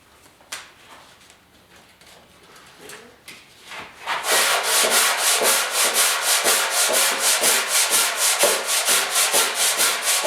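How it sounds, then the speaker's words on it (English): Sanding a 1969 Ford Bronco body panel by hand with 150 grit sandpaper, quiet scrapes at first, then loud, steady back-and-forth rubbing strokes close by, with no talking. "we'll have to sand this panel down and get it ready for primer. I'll probably just sand it down with some 150 grit"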